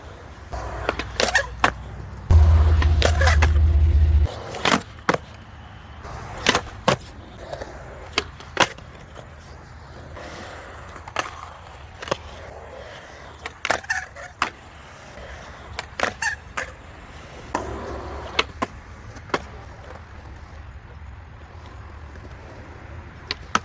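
Skateboard on Powell Dragon Formula wheels at a skate park, with steady rolling noise punctuated by many sharp pops, board slaps and landing clacks from repeated tricks, one heavy low rumble early on, close and loud.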